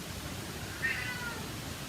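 A domestic cat gives a single short, faint meow indoors during a card-quilting craft session, heard against a steady background hiss with no talk.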